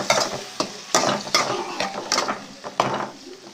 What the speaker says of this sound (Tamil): இதில் தக்காளியை வந்து ஆட் பண்ணி நல்லா வதக்கிக்கலாம்